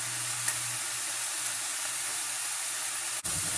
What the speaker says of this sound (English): We're gonna have it grill, couple seconds on one side